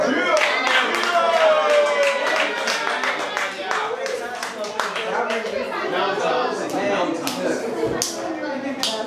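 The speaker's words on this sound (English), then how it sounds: "give a round of applause to everybody" Small group at a songwriting session claps in a lively burst mixed with cheers and chatter, hands close and uneven over overlapping voices.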